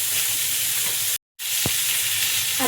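Bangda (mackerel) fries crisply in a pan over lowered heat, giving a loud, steady sizzle that cuts out briefly, then resumes with a single light knock partway through.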